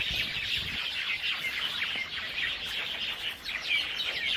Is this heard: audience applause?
no